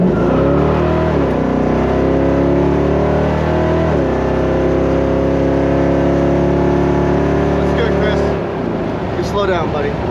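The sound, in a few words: 1968 Camaro convertible accelerating hard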